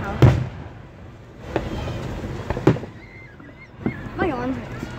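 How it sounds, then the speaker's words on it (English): Fireworks going off at a house on the Fourth of July: several sharp bangs and pops spaced a second or so apart, with people talking and whistling tones in between. "Another video of us setting fireworks at our house."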